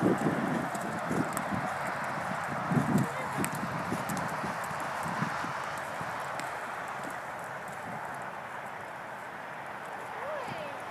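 A brown gelding's hooves thud under a rider over a steady wash of outdoor noise. The irregular footfalls are clearest early on and fade into the constant background.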